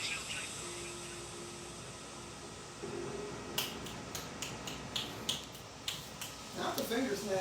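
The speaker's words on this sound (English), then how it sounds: "Not the finger snaps" A series of sharp finger snaps, about a dozen crisp clicks in an irregular rhythm, close and fairly clear over a faint hiss and a low background tone.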